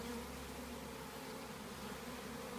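Honey bees hum at a beehive in a steady, even drone that stays constant throughout with no other sounds.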